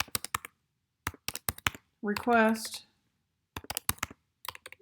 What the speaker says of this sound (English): So you start typing in here.